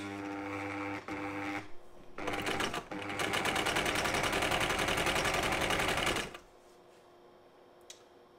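A Singer 319 sewing machine runs in bursts, with a stop-start whir before settling into a steady, loud rapid stitching for about three seconds, then stopping into near silence.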